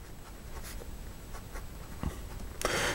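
A fountain pen with a medium nib and black ink, decorated with a Totoro design, scratches softly across paper in short, quiet strokes, close up, followed by a louder rustling burst at the end.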